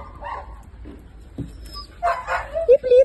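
Thin dogs whimper and let out short high yips close by, the whining rising toward the end over a low background rumble.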